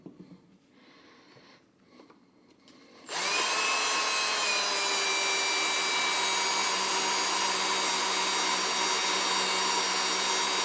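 After a few seconds of quiet, a drill driving an oiled bit starts up and holds a steady, loud whine that carries on without a break to the end, close up and with no talk.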